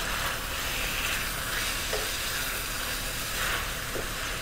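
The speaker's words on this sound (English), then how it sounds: "Yes, we are sizzling this up." Steady, close frying sizzle with a hissing crackle as chicken masala cooks in a pan over high flame, broken by a couple of soft stirring scrapes.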